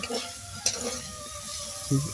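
Green banana slices fry in a wok, a close continuous sizzle with short scrapes and clinks of a spatula stirring against the metal pan, no voices present.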